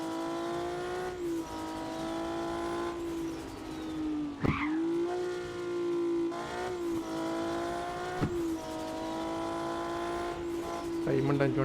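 Lamborghini engine in a car dealership video game, a steady droning hum with gear-shift dips and occasional tire skid squeals, running continuously at moderate loudness.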